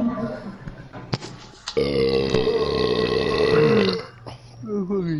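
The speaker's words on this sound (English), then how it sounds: "Who was burping in my ear?" A long, loud, drawn-out burp rumbles close to the ear for a couple of seconds, with brief grunting and voices around it.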